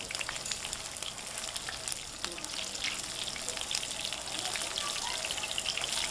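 Chicken frying in oil in a pan gives a steady, dense sizzle with crackling pops throughout, close and fairly loud, with no talk over it.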